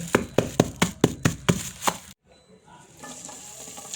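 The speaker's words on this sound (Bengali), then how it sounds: "আদা ও রসুন থেতা করা হচ্ছে এই মুহূর্তে।" Ginger and garlic are pounded by hand for a dried-fish curry, about eight sharp, evenly spaced thuds close by, then a pause and a quieter stretch of faint kitchen noise.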